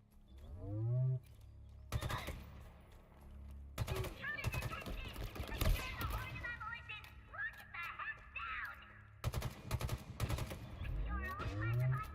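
Gunfire from a weapon in the video game Control, a few sharp loud shots scattered across the stretch with a dense burst in the middle, heard under steady talk and game music.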